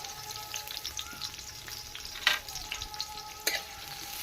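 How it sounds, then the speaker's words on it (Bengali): Chopped onion hitting hot oil in a pan for a poppy-seed water spinach dish, a steady close sizzle and crackle with a couple of sharper spatter bursts and no talk. "তেল গরম হয়ে গেছে আমি এই তেলের মধ্যে পেঁয়াজ কুচিয়ে দিয়ে দিচ্ছি"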